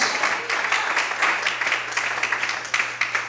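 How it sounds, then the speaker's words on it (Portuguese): A church congregation applauds during a worship service: loud, dense clapping from many hands with an uneven rhythm, continuing throughout. "Quantos podem aplaudir e adorar ao Senhor nessa noite? Mais fortes palmas, aleluia."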